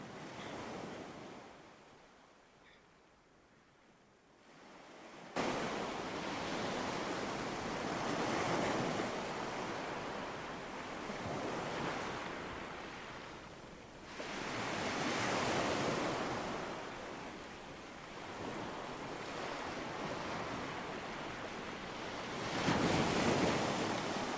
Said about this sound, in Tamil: அலை அந்த இடத்துல மட்டும் கொஞ்சம் அதிகமாக வர மாதிரி இருக்குது